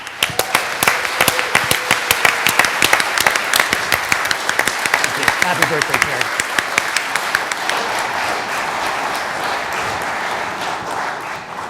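An audience applauds warmly at a June 2023 tech presentation to celebrate Terry's birthday: dense, steady clapping from many hands fills the room throughout, with a voice briefly speaking near the start.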